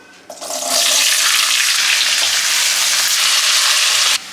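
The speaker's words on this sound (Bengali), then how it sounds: "এবার প্যানে আলু আর শিমটা দিয়ে হালকা করে ফ্রাই করে নেব।" Potatoes and flat beans hit hot oil in a pan and burst into a loud, steady sizzle that holds for several seconds before cutting off, with no voices.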